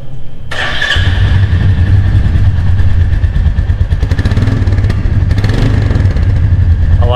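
A Royal Enfield Meteor 350 motorcycle starts up after a brief whir, then settles into a loud, close, steady thumping exhaust note at idle.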